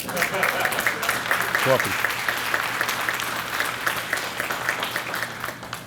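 An audience claps at a school dedication ceremony, with dense applause building right after a brief spoken welcome and continuing strongly throughout, a voice heard over it.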